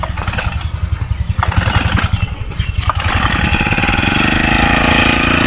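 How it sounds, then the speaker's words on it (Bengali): A petrol-powered machine engine sputters through start-up and then settles into a steady, loud, close running chug. "এখন মেশিনটি স্টার্ট দেওয়ার কাজ চলছে। এটা মূলত পেট্রোলেই চলে এই মেশিনটি।"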